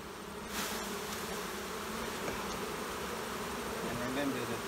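Honey bees buzz in a continuous droning swarm after being shaken from a hive frame during an autumn split, with a sharp knock near the start and the hum staying close and steady.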